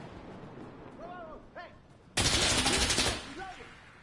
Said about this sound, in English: I heard them calling a rocket barrage.